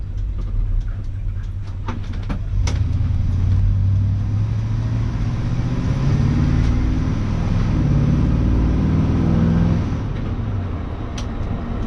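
A 1975 Ford twin-grill two-wheel-drive pickup truck engine running steadily, a smooth low rumble heard close by, with a few brief clicks early on and no talking.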